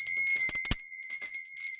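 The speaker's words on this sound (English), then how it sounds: "I'm going to ring my lovely lady bell." A small hand bell rings in a quick run of bright, shimmering strikes with sustained high ringing tones, close and fairly loud, alone without talk.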